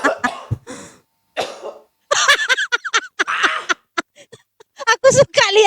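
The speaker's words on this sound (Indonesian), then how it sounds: "Aku suka lihat dia batuk mampus." A person coughs hard after choking on cigarette smoke, with loud, ragged bursts and throat-clearing broken up by short pauses. Other people talk and laugh around the coughing.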